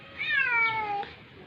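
A cat meows from inside a cat cage, one clear, drawn-out meow, close and fairly loud, with a soft background hiss.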